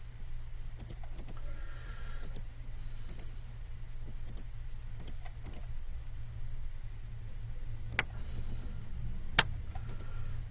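Fast keyboard shortcuts tapped on a computer keyboard make a quiet run of irregular light clicks, with two sharper key strikes near the end over a low steady hum.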